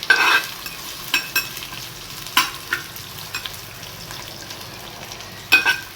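Ingredients sauté in a hot clay pot for a shark fish curry, with a steady close sizzle punctuated by sharp scraping stirs at irregular intervals.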